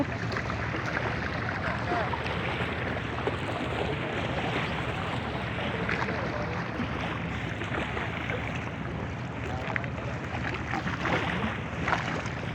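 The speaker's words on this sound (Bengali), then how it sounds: "আমরা এখন ট্রলার দিয়ে গঙ্গামতির লেকে যাব" A trawler boat crossing Gangamati Lake near Kuakata gives a constant rumbling engine drone mixed with water wash and wind, steady and close for the whole stretch.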